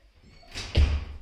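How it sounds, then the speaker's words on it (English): A door is pushed shut indoors, a brief swishing movement followed by a solid, close thud as it closes. "Can you close the door?"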